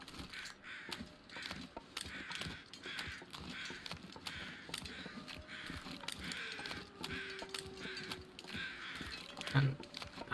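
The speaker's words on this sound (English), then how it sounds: "Everywhere I go, there's crows." Crows caw repeatedly in the survival video game The Long Dark, harsh calls scattered over an ambient outdoor background, with faint mechanical clicks and a low tone near the end.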